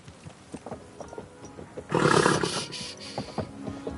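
A loud, harsh horse neigh from Kingdom Come: Deliverance 2 bursts out in the middle, set against quieter scattered clicks and sounds.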